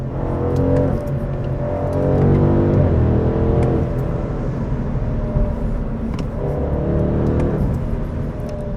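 A BMW M850i Gran Coupe driven in comfort mode gives a smooth, muffled engine and exhaust note that rises and falls through gentle accelerations and gear changes, heard from inside the car with no talking.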